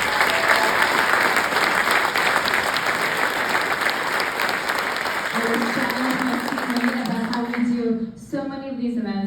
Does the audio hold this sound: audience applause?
yes